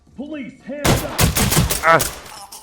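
Several sharp gunshots from a pistol in the tactical shooter Ready or Not, fired in a hotel during a fight with criminals, come in a quick irregular burst after some faint earlier sounds.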